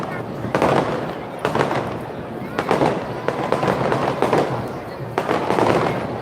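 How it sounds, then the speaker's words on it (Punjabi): Fireworks go off during a Vaisakhi celebration at Sri Hazoor Sahib, a dense crackling and popping barrage with repeated bursts of sharp bangs, fairly close and loud, under a busy crowd ambience. "ਚੱਲਦੇ ਆਪਾਂ ਉਹਦੇ ਕੋਲ ਆਤਿਸ਼ਬਾਜ਼ੀ ਦੇ ਕੋਲ ਆਉਂਦੇ ਹਾਂ"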